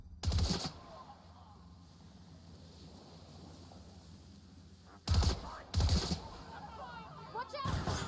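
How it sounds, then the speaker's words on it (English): Gunfire in The Outer Worlds video game: a loud short burst, then a long quiet stretch with faint ambient hum, followed by three more sharp volleys close together near the end. "Opening fire!"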